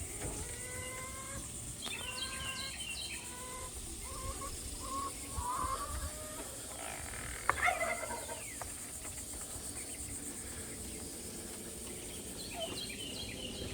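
Turkeys gobble in repeated bursts while chickens cluck around them on a farm as the birds are let out in the morning, with a sharp clatter partway through and steady background noise.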